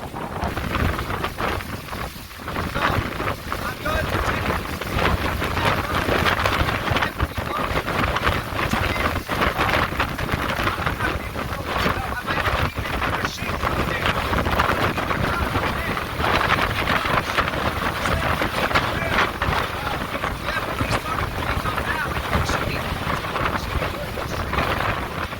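Hurricane Sally's strong winds and first rain band on Dauphin Island, Alabama, make a loud, unbroken roar of gusting wind buffeting the microphone, with rain noise mixed through it the whole way.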